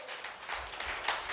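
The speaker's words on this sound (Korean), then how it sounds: "이게 믿어진다면 박수" A church congregation claps together in a brief, dense burst of applause, a steady wash of hand claps with no voices on top.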